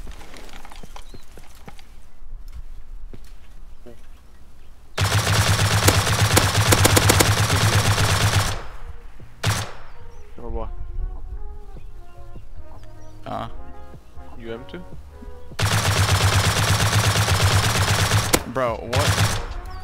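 Silenced M2 rifle fire in the survival game Rust, sustained muffled bursts in two long stretches separated by quieter scattered shots and game noise, with someone speaking briefly.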